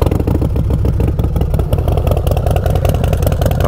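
A 2017 Harley-Davidson Dyna Low Rider S with aftermarket exhaust revs loudly up close, a deep, throaty, steady rumble with rapid firing pulses and no talking over it.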